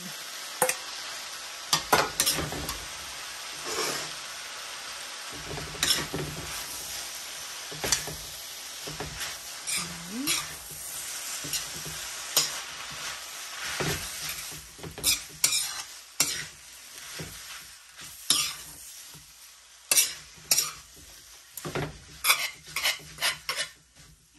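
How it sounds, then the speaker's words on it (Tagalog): Pancit miki noodles stirred in a pan, with repeated scraping and clinking of the utensil against the metal over a soft sizzle. The strokes come in irregular bursts and grow busier toward the end. "Haluin lang natin ng haluin hanggang maluto."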